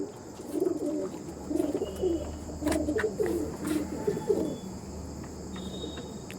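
Pigeons of pure Chennai breed, flying quality birds, coo in a low repeated rhythm from close by, several soft bursts spread across the clip with chirps and a steady background hum.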